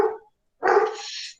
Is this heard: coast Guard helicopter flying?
no